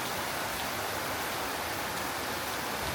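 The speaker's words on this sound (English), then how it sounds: "And it's still raining." Steady, dense rain pours down in Ubud, Bali, a continuous even hiss of falling water with no breaks, close and moderately loud, with no voices.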